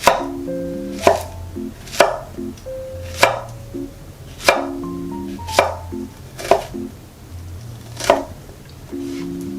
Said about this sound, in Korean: 1cm 정도로 자른 다음에 4등분 해주겠어요.